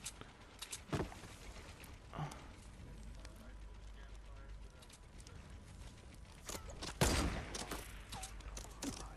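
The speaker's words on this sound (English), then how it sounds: "south is shooting, west is shooting, west is shooting" Scattered gunshots in a Fortnite battle royale match, a few sharp cracks among a steady background of game noise, with players talking over the shooting.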